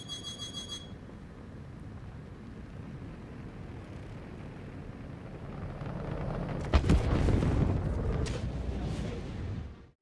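A size 9 torpedo exploding against a Hammerhead ship in a video game toughness test, a sudden heavy blast with crackling follow-up over a low droning background, then cutting off.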